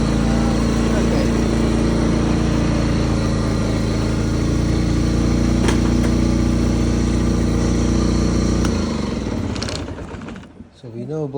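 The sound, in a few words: restored Honda HT3813 lawn tractor engine running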